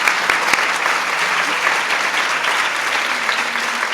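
Audience applause at a Mother's Day gathering at the White House, steady dense clapping from a large crowd filling all four seconds at an even, loud level.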